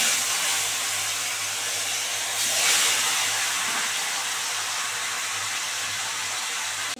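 Bele fish frying in hot oil in a pan, a steady, loud broadband sizzle that holds evenly throughout, with a brief surge of spitting about midway and no voices.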